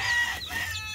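A hen clucks close by in a few short, throaty bursts over a steady low rumble, with no talking.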